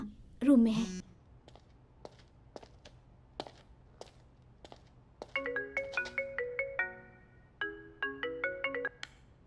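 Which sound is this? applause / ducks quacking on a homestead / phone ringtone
phone ringtone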